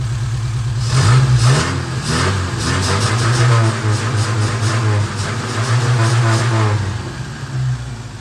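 Volvo Amazon car engine idling while warming up after a plug wire fix, a steady low rhythmic chug with a few light revs, close and fairly loud, with faint background clatter.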